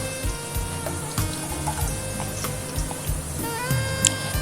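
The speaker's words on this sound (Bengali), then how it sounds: "সর্ষের তেল গরম করে আমি আলুগুলোকে আগে একটু ভেজে নিচ্ছি" Potatoes frying in hot mustard oil, a steady soft crackle and sizzle close by with faint clinks of utensils, no voices.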